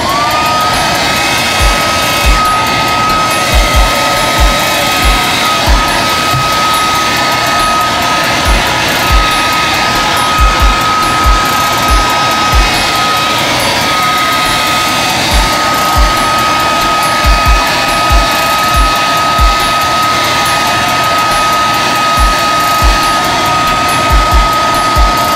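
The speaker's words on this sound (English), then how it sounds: "with your blow dryer, you're gonna wanna blow with your pattern" A handheld hair blow dryer blows continuously and loudly, a steady high whine and rushing airflow with a slight tone shift early on, while small repeated clicks and bumps sound through it.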